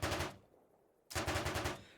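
Automatic 7.62 machine gun fire in the war video game Arma Reforger, two loud rapid bursts of closely spaced shots separated by a brief pause, with no talking over them.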